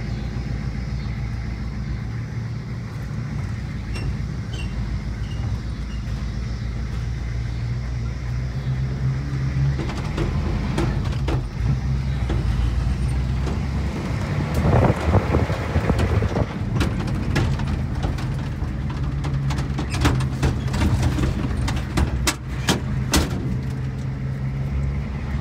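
A 6.9 or 7.3 litre diesel pickup truck engine drones steadily from inside the cab, its low rumble rising as it pulls through second gear, with wind and rattling noise over the top.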